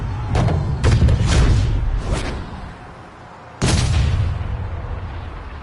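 A golf club strikes the ball in a PS4 video game with a deep, booming crack like a cannon, repeated as several loud thumping bursts with a strong second impact after a brief lull.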